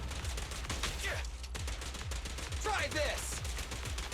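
Rapid gunfire bursts in the action game Zenless Zone Zero, sharp repeated shots rattling over music and effects while a character's voice calls out briefly.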